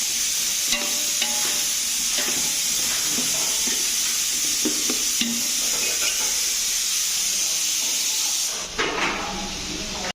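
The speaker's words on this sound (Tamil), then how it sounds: "இப்போ தான் அப்படியே வந்து வெங்காயத்துக்கு வத்தனை கொடுத்துட்ருக்காரு" Onions fry in hot oil for a bachelors' mutton biryani, giving a steady loud sizzle and hiss with occasional stirring scrapes throughout, easing off slightly near the end.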